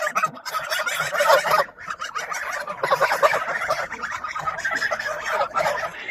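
A flock of farm geese honks loudly and continuously at close range, overlapping calls filling the whole stretch without pause.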